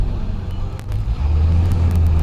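Road traffic in a town: a steady low rumble of vehicle engines, growing slightly heavier midway as a motor nears, with no voices.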